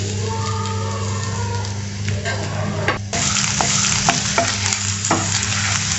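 Ginger and garlic sizzle loudly in hot oil as the tempering for homemade soya Manchurian, a close, continuous frying crackle with a few sharp clinks and stirring knocks from the pan.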